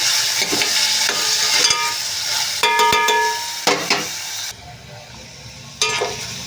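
Onions and green chilies frying in a pan, a steady close sizzle broken by scraping stirs and clinks of a utensil, with no one speaking.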